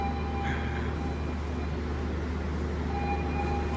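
Inside the Argo Bromo Anggrek express train running between Surabaya and Jakarta in Indonesia, a steady low rumble and hum of the moving carriage, with faint, distant tones drifting over it and no talk.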